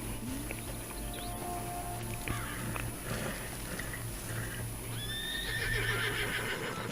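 A horse in the video game Red Dead Online gives a loud whinny, with the clip-clop of hooves and ambient outdoor game sounds around it. A rising squeal comes near the end.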